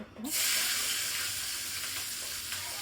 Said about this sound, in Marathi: त्याच्यानंतर मी ॲड करते शिमला मिरची फ्राय करून घेणार